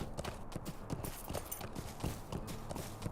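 Horse hooves gallop in a video game with a quick, steady clip-clop rhythm that keeps going throughout at moderate loudness, with no talk over it.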